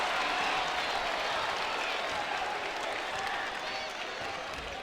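Basketball arena crowd at a college game, Duquesne at St. Bonaventure late in the second half, a loud continuous roar of cheering and clapping filling the hall without letup.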